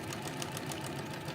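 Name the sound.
sewing machine sewing down a French seam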